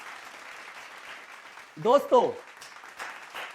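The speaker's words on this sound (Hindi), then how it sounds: "जोरदार तालियों से इनका स्वागत और सम्मान करते हैं।" An audience applauds at a National Achievement Day awards celebration. The clapping is faint and continuous in the background while a voice briefly speaks over it.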